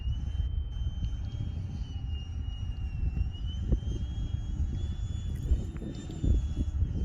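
A 95-inch FunScale F/A-18C radio-controlled model jet on its first flight gives off a continuous turbine whine and rush, steady and moderately loud outdoors, with a high tone shifting slightly as it passes.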